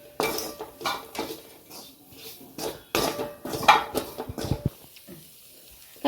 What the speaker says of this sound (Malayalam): ഇനി പൊടികളുടെയൊക്കെ പച്ചമണം മാറുന്ന സമയം വരെ ഒന്ന് വഴറ്റിയെടുക്കണം.